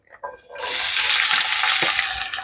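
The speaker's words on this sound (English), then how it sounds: "I'll pour, this is spinach, the onion and the garlic together" Spinach, onion and garlic poured together into a hot pot set off a loud, steady hiss and sizzle that swells quickly and holds for about two seconds.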